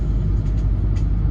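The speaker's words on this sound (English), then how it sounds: "love how this green car just cut me off" A car drives along a road, a loud close continuous engine and tire rumble from inside the vehicle, steady throughout.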